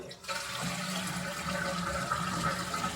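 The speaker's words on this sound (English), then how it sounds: "I like to shut the valve off, flush the toilet" A household toilet flushes, with water rushing and swirling steadily through the whole stretch, close and fairly loud with a low gurgling undertone.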